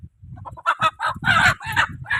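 A large rooster just taken out of a mesh coop clucks loudly and close by, a quick series of sharp, throaty bursts in an uneven rhythm.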